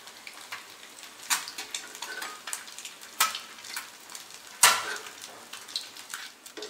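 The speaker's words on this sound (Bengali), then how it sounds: "বেগুনগুলো ভেজে নিচ্ছি" Eggplant slices frying in oil: a close, steady crackle and sizzle with sharp spitting pops at irregular moments, no voices.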